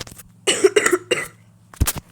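A person with a cold gives a short burst of close, loud, rough coughs, three or four hacks in quick succession, then one more cough after a brief pause, with low background hum and no talking.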